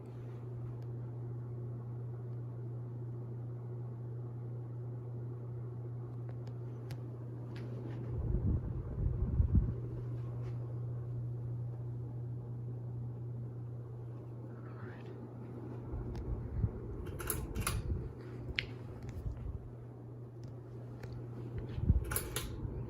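A 52-inch Canarm Kincade ceiling fan runs with a slight wobble, giving a steady low hum throughout, broken by a few soft thumps and clicks nearby.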